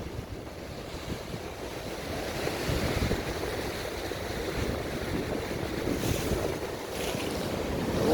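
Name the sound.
high sea waves crashing into rocks at Rosh Hanikra grottoes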